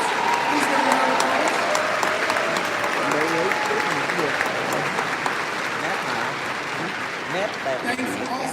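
A large crowd applauds at a university graduation ceremony, a dense, continuous wash of clapping sustained throughout, with voices and faint tonal sounds mixed underneath.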